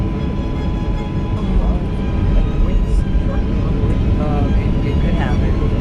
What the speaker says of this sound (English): Now enjoy this amazing takeoff.